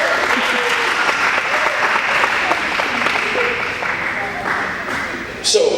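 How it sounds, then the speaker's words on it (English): An audience at a motivational talk applauds a group of helpers, steady, full clapping with scattered voices underneath, easing slightly before a short burst near the end. "Give a round of applause."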